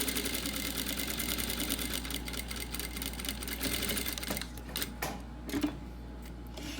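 A sewing machine runs a steady, close stitching burst along a quilt block seam for a few seconds, then stops, leaving soft handling clicks and fabric rustle over a low hum.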